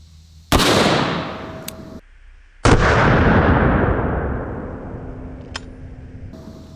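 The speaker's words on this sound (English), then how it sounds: "I don't think you ever get used to shooting a 500 Magnum." .500 Magnum revolver fired twice outdoors, each a loud, close blast whose roar rolls away over a second or two, the shots about two seconds apart, with no voices.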